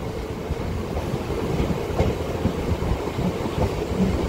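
Onboard a MEMU local train running on the Vijayawada to Machilipatnam line, steady rolling rumble with rhythmic wheel clatter and a few sharper knocks, continuous and fairly close, with no talking.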